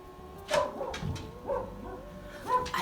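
A dog barks in a studio space, with several sharp barks spaced about a second apart, each followed by a brief yelp, heard at moderate distance without any talk.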